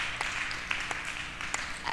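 Audience applause at a youth forum, a faint scattered round of clapping heard from a distance with a few sharper individual claps standing out.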